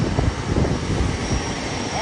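Steady engine drone inside a private jet cabin, a continuous roar with faint high whine, while voices argue loudly over it.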